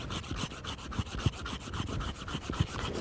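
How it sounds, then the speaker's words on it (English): A folding hand saw cuts through a small wild olive tree on sloping ground, giving steady rasping strokes in an even rhythm with short, sharper bites. It sounds close and moderately loud, with no talking. "Folding hand saws like these are great for cutting small trees."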